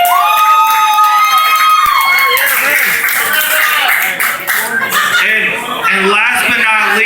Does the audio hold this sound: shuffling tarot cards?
no